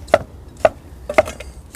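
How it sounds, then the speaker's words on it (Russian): A knife chops cucumbers on a board in four sharp, evenly spaced strikes, close and loud against a quiet background. "Нарезание огурцов в 4 руки."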